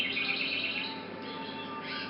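Birds chirping and calling around a lake in Bengaluru in winter, a steady busy chorus of high tweets, moderately close, with no talk.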